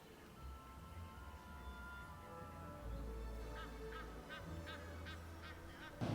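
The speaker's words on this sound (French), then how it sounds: "Là, j'entends juste des canards et des gens qui discutent." Ducks honking and quacking outdoors in a quiet spot away from city traffic, a run of repeated calls building toward the end over a steady background murmur of distant people chatting.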